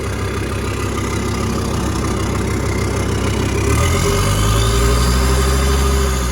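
A Volkswagen Eurovan with a swapped TDI diesel engine runs steadily at idle, a loud close rumbling drone that deepens and thickens partway through, with no talk over it.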